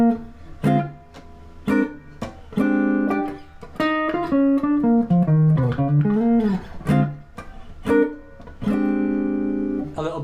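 A jazz blues lick played on a melodic instrument, a phrase of sustained and bending notes with short rhythmic stabs, clear and close with no talking.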